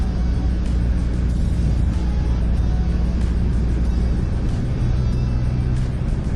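A 2004 Audi A4 drives along, probably at highway speed, giving a steady, loud engine and road rumble throughout with no talking.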